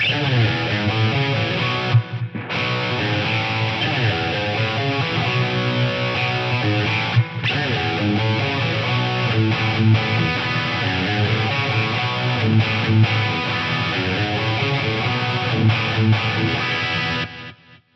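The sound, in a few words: guitar through PCM81 tape echo delay effect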